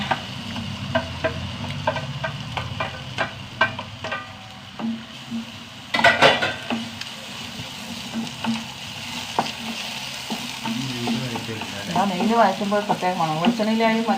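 Steady frying sizzle as chopped plantain fries in ghee in a pan, with intermittent stirring and scraping clicks, close and moderately loud, with no talking.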